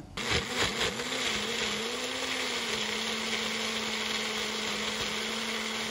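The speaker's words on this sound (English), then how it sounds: "the olive oil, good amount of olive oil, and we go ahead with the first blend" A blender runs continuously, whirring steadily and loudly as it purees pesto Trapanese with a generous amount of olive oil, the motor pitch settling after a brief start-up surge.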